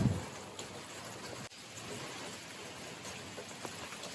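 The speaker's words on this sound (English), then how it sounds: "It is raining right now. It just started raining a little bit ago" Light rain falls outdoors as a faint, steady hiss, with a brief dip in the patter partway through and no voices.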